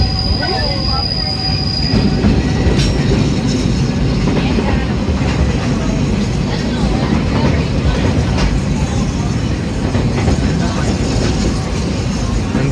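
A train inside Magic Kingdom, Orlando rumbles steadily along the rails, loud and close, with a constant low roar, metallic rattling and a brief high wheel squeal near the start.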